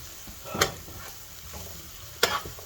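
Ground meat browning in a pan for spaghetti meat sauce, a soft steady sizzle with two sharp clacks of a utensil against the pan, close and alone.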